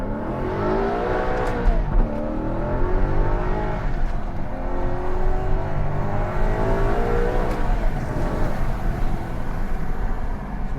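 A Maserati GranTurismo 4.7 S MC Stradale engine revs and accelerates loudly with the window open, pitch climbing and falling through several gear pulls, with a throaty roar close by.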